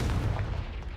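The Confringo blasting spell exploding in the video game Hogwarts Legacy, a dull low boom with a rumbling tail heard alone and fairly quiet.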